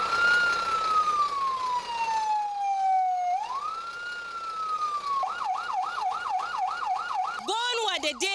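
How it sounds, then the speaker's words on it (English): A wailing emergency siren sweeps slowly up and down on a street in Maiduguri, Nigeria, then switches to a fast yelp pattern, loud and close with faint background noise. "major streets of Maiduguri were filled with such siren sounds indicating emergencies"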